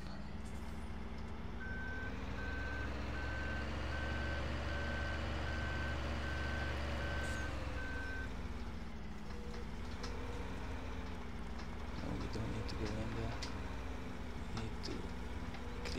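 A front loader in Farming Simulator 17 idles with a steady engine drone while its reversing alarm beeps evenly about a dozen times, then the engine note shifts and mechanical clatter follows.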